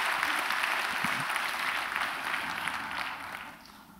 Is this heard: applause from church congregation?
yes